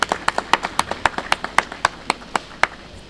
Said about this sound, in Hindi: सनम तनोली के लिए भरपूर ताली होनी चाहिए।